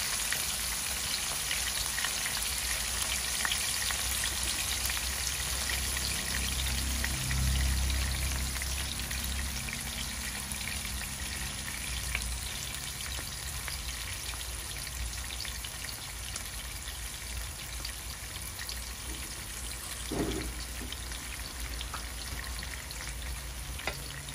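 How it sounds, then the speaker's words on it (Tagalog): Tomato paste fries in a pan with chicken and tomatoes for chicken kinamatisan, giving a dense, continuous sizzle and crackle, close and even, with brief stirring and scraping sounds and no voices. "Tapos lalagyan na natin yung ating tomato paste."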